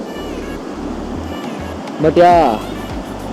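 A waterfall with much reduced flow gives off a steady, moderate rush of water with wind noise on the microphone, and someone speaks briefly over it.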